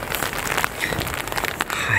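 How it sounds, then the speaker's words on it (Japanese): Rain patters steadily on a tent during a camping stay at Kamikochi, a dense close crackle of drops with irregular louder taps and no talking. "こう雨降ってて外もあんまり出れないと思うんで"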